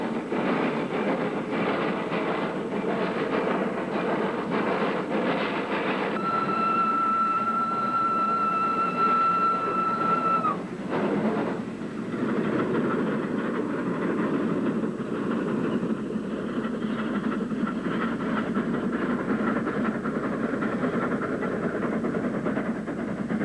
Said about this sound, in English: train crosses a viaduct over a tea plantation before attacking the last 3 miles of the climb